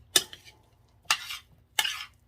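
Mayonnaise being mixed into a crab meat potato salad, three distinct scraping strokes of a utensil against a bowl, close and otherwise quiet.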